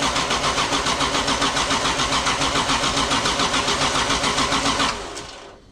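The Toyota 2JZ engine in a Nissan S13 cranks loudly and close up, with an even, rapid rhythmic churn for about five seconds before the starter cuts off and the sound fades.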